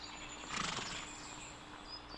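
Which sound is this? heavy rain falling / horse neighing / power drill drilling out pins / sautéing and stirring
horse neighing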